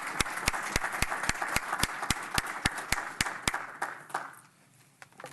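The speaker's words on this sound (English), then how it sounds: "Just give a round of applause" Conference audience applauding with a few distinct loud claps standing out over a steady wash of clapping, fading out after about four seconds.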